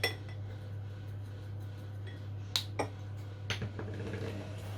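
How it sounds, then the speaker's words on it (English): An egg is whisked in a bowl, quiet scraping and soft clinks of the whisk against the bowl with a few sharper taps standing out, over a steady low hum and no talking. "Let's give this egg a good old whisk."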